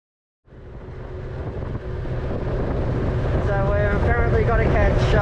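A boat in Thailand gets under way with a sudden onset of loud engine and water rush, buffeted by heavy wind noise that builds and holds steady throughout.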